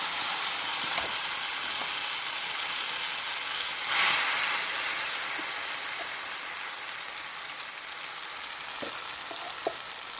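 Urad dal sizzles and fries in hot oil in a pan while making mint chutney, a steady close hiss with a brief louder burst of crackle midway and scattered small pops.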